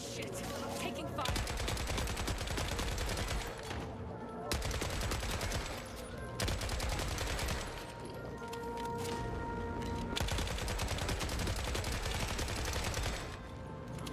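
Sustained automatic gunfire in the shooter The Forever Winter, dense rapid bursts rattling almost continuously with a couple of brief pauses, loud and close.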